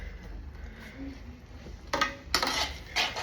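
Maggi noodles being stirred with masala powder in a pan, quiet at first, then bursts of scraping and clattering from a utensil against the pan in short, loud bouts.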